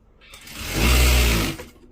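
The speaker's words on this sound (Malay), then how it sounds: "Oh boy, mesin. Bunyi kuat tu sebab ni skru tak rapat." A sewing machine with a loose screw runs loudly in one short burst, swelling to a heavy whirring hum and fading away, with no talking.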